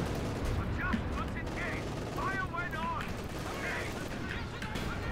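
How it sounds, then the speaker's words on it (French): Anti-tank cannon fire in a war video game, heard as dense continuous low booming gunfire and explosions throughout, with faint voices surfacing briefly over the din. "On va tirer un canon anti-char,"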